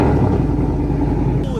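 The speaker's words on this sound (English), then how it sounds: "Let's go ahead and get a little cold start for y'all." Ford F150 5.0 truck engine started cold: a loud, steady low engine rumble throughout a short stretch, with a deep throaty tone and no pauses.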